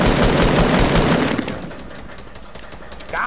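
Automatic gunfire in the video game Fortnite, a loud close rattling burst for about a second and a half that then fades into a quieter rumble, with no voices.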